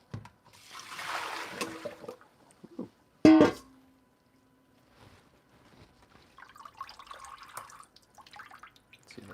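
Tap water runs into a kitchen sink for about a second, refilling it for washing a large cauliflower mushroom. A sharp clunk follows, then faint trickles and small splashy clatters.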